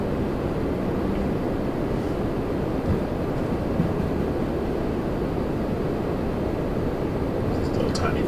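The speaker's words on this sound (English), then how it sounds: "This little tiny thing coming in. From Teterboro. Embraer Phenom." Embraer Phenom light business jet arriving from Teterboro and passing Toronto Pearson, a steady broadband roar and rumble heard from a distance with no break.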